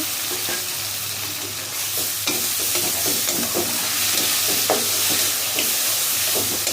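Lentils fry in a pan while being stirred, a loud constant sizzle close by, broken by repeated scrapes and clicks of the spoon against the metal.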